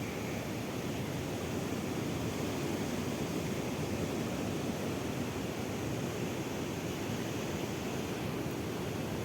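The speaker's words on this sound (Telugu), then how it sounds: "వాటర్ అయితే చూడండి అసలు ఎలా వస్తుందో" Heavy water roars in a steady, dense rush with no breaks, loud and continuous like a torrent pouring through open gates, as water flows from raised gates at a canal.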